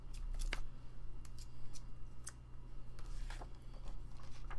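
Scissors snip through paper for a junk journal, giving quiet, scattered crisp cuts at close range over a faint low hum, with no talking.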